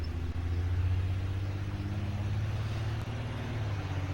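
A car engine hums steadily up close, a continuous low rumble with no change in pace and no talking over it.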